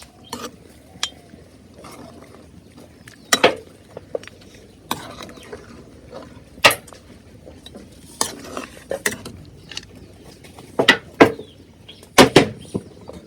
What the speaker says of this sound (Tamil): அப்படியே நல்லா மிக்ஸ் பண்ணி விடலாங்க.